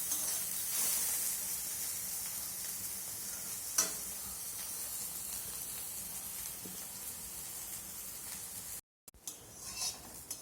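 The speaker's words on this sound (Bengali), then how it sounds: "আমি করলাটা ঠিক এইভাবে ভেজে নিয়েছি।" Bitter gourd fries in refined oil with a steady, fairly quiet hiss close by, broken by a single clink of a utensil partway through. Near the end the sound briefly drops out and then returns with a few light knocks.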